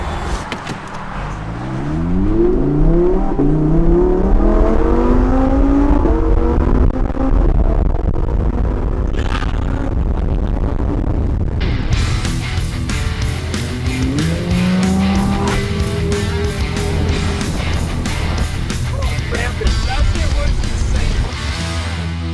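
A Lamborghini sports car revs hard and accelerates through rising gear shifts, engine whine climbing repeatedly, loud and close from inside the cabin on Dubai roads, with the engine roaring steadily throughout.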